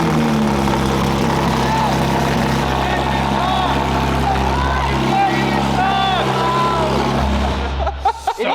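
A Chevrolet Corvette C8's exhaust drones loud and deep at idle and under revs, a constant heavy rumble up close, with people talking and exclaiming over it before it cuts off at the end.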